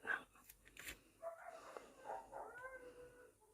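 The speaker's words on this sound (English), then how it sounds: "The dogs are going out again. You can hear them." Dogs bark outside, faint and distant, in a few scattered yaps with quiet gaps between them.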